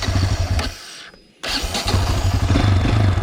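A motorcycle engine runs loudly, cuts out abruptly for a moment as the bike stalls in first gear, then starts again and keeps running with a steady, throbbing idle.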